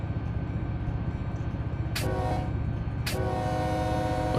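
A simulated train rolls along with a steady low rumble and rhythmic clatter, then its horn blasts twice for a crossing in Run 8 Train Simulator, each sharp bright blast standing out clearly over the running noise.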